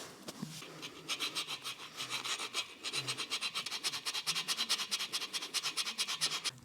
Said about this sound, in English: Couple minutes on the file on each of those nubs.